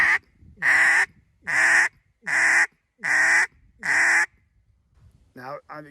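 A duck call blown in a lesson produces six loud, buzzy grunting honks in a steady rhythm, close to the microphone, followed by a brief quieter rasping note.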